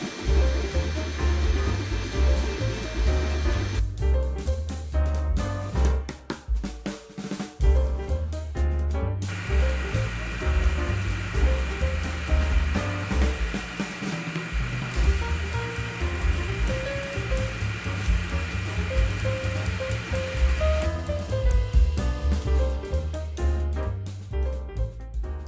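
Elegoo Neptune 4 Max large Klipper 3D printer running a clearance test print of a number slider, giving a steady, loud whir of fans and motors with shifting stepper tones throughout and no speech.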